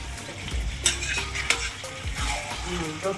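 Mutton pieces stirred and fried in a pan for a Bengali mutton curry with potatoes: a spoon scrapes and clinks against the pan over a soft, steady sizzle, with a few sharper metallic knocks.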